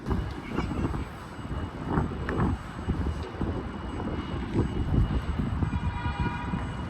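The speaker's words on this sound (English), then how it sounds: "It's so windy!" Steady, loud wind in New York buffeting and roaring across the microphone, with gusts rising and falling throughout and a faint voice briefly underneath.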